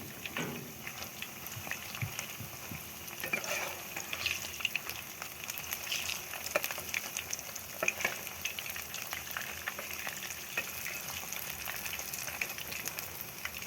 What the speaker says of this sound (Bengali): আরও এক পাশ ভাজার জন্য অপেক্ষা করা।